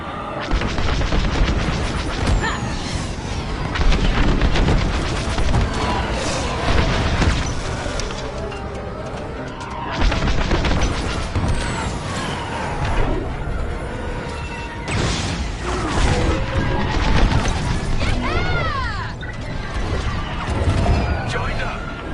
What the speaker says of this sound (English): Fire missiles!